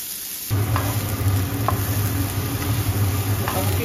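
Onions sizzling in a small amount of mustard oil for a fish kachori filling, a steady close hiss beginning after a brief quiet moment, with occasional soft stirring clicks and a low hum beneath.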